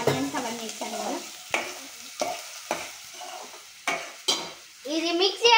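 Onions and green chillies are stirred in a frying pan for a chicken curry, with repeated scraping strokes over a steady sizzle and some high, tonal sounds at the start and end.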